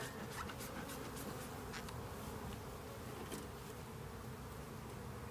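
A dense, steady drone of many honey bees buzzing around a queenless hive being split into a nuc, close and continuous, with no voices.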